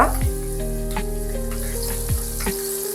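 A bay leaf and small pieces of cinnamon sizzle in hot oil in a pan, making a steady frying crackle with a few sharp pops and a faint clatter from the pan.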